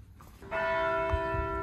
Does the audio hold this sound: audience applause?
no